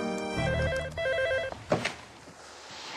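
A telephone bell rings in a warbling trill, two bursts close together, then stops and is followed by a clatter as the handset is picked up in a quiet room.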